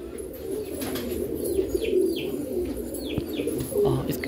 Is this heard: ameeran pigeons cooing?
yes